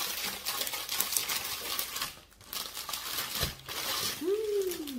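Plastic wrapping crinkles and tears as chocolate biscuit snacks are unwrapped close by. The crackling comes in uneven bursts with a brief pause midway and is fairly quiet.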